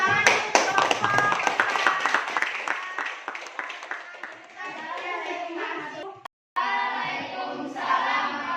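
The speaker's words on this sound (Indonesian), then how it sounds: "tepuk tangan untuk kelompok" Group clapping by a class of teacher trainees fills the first few seconds with crisp, close claps. The clapping then thins out and fades, and voices carry on talking after a brief dropout.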